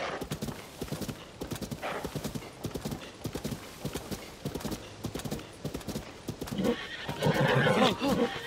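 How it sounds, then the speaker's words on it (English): In the video game Tears of the Kingdom, a horse's hooves clip-clop in a quick steady rhythm, followed near the end by a loud neigh over the hoofbeats, with faint game ambience behind. "I need to get this horse to calm down."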